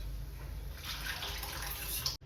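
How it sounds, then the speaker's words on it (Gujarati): Boiled urad dal poured into a pan: a close, steady wet splashing and gurgling pour that lasts about two seconds, then cuts off abruptly. "તો ચાલો હવે આપણે આ જો બાફેલી અડદની દાળ એ નાખી દેવાની છે"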